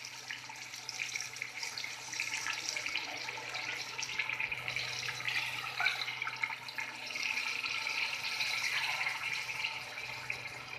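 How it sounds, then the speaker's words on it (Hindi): Tap water running steadily into a cooking pot for rice, a continuous close splashing stream with no speech over it. "ये मैं डाल दूँगी पानी।"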